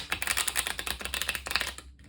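Rapid, dense riffling clicks of cards being shuffled close by, a quick fluttering burst lasting about two seconds, then stopping.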